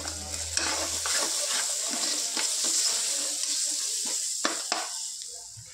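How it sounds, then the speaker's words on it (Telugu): Chili powder being stirred into a fish curry base of cooked tomato: repeated scraping stir strokes over a steady sizzle, close and clear, with no talking. "ఇందులో ఒక 6 స్పూన్స్ కారం పొడి వేసుకోవాలి ఫ్రెండ్స్. ఇది మంచిగా కలుపుకుందాం."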